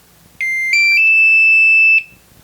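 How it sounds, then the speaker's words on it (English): A Hitec X2 AC Plus battery charger gives a loud electronic beep sequence: two short stepped tones leading into one sustained pitched beep of about a second, close to the microphone in a quiet room. "So it beeps, and now it says it's ready to charge."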